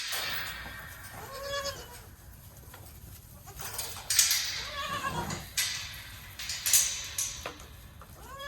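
Farm goats bleat and holler at feeding time in several separate calls at moderate distance, mixed with birds and other barnyard animals over a noisy background.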